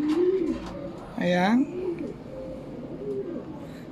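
Racing pigeons coo in low, rolling phrases throughout, with someone speaking over them; a louder burst of talk or calling briefly rises in the middle.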